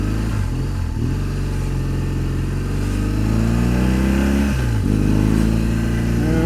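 A motorcycle ridden on a road, heard from the rider's position with the engine close and loud, revving up through rising gears with brief dips between shifts, over steady wind noise.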